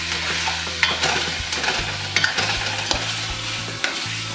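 Shrimp sizzling in a single pot on the stove while a utensil stirs them, with steady frying hiss and repeated scraping strokes at close range, no talking.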